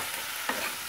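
Mullikkai vegetable being stirred and sautéed in a pan with asafoetida, giving a steady soft sizzle with one brief scraping stir in the middle.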